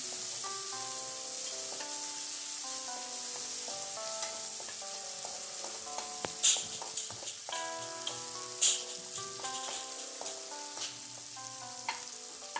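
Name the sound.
chopped onions frying in oil with kalonji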